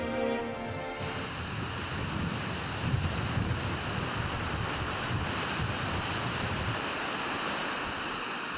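Ocean surf breaks and washes against rocks at Port Arthur, Australia in a continuous, roaring rush, with heavy wind noise buffeting the microphone throughout.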